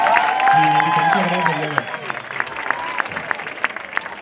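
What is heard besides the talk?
applause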